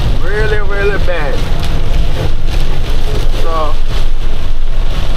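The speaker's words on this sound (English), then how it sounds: "it's raining really, really, really bad." Heavy rain pounds steadily on a box truck parked in Texas, a dense, loud wash of noise filling the whole clip, with someone speaking briefly over it.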